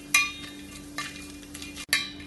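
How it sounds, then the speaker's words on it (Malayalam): Whole spices for biryani, cinnamon, mace, star anise and fennel, stirred in hot oil in a pan, with a few spaced scrapes and clinks of the spoon over a soft steady sizzle. "ഇത് കുറച്ച് സമയം ഇളക്കി ഫ്രൈ ചെയ്യാം"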